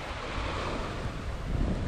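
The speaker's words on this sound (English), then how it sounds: "as the waves are lapping, it's stirring all the worms and that type of thing up" Small waves lap a shallow shore at low tide on bonefish flats, a steady rushing wash mixed with heavy wind buffeting on the microphone.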